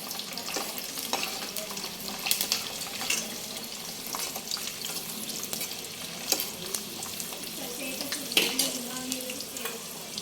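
Garlic sizzles in hot oil for a tempering while making amla pickle, a busy, continuous crackle with occasional sharp pops and scrapes of stirring, close and fairly loud, no voices.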